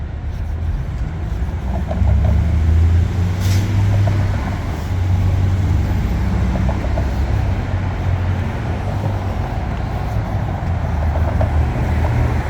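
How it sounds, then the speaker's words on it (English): City road traffic in Seattle, a steady low rumble of passing cars and heavier vehicles that holds level throughout, close and continuous with no talking. "There's all the traffic."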